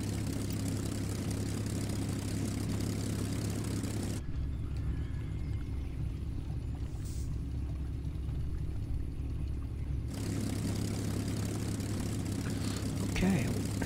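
A Spitfire Mk-5b's piston engine runs steadily before taxiing, a loud, continuous propeller drone with a deep low-end throb that holds throughout and dips into a muffled tone midway.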